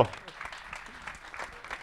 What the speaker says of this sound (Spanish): Fuertísimo aplauso